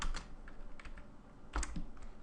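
Code being typed on a computer keyboard: quick, light key clicks in short irregular bursts, close and faint, with no talking.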